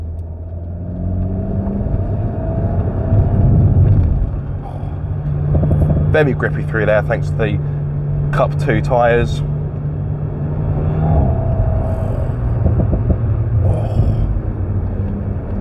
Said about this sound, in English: That exhaust note, oh, it's beautiful. You get the snarls, you get the growling, you get the pop, pop, pop on the overrun.